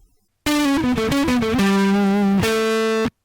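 A harsh, buzzy distorted tone, apparently a voice processed with a custom distortion effect in Cool Edit Pro, rises and falls in pitch, then holds steady notes before cutting off abruptly.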